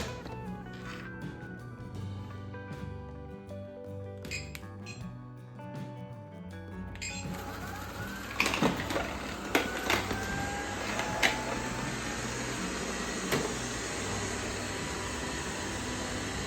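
A robot vacuum, used in vacuum mode without mopping, starts up and runs with a steady whirring hiss, broken by a few sharp clicks and bumps, close by with no talking.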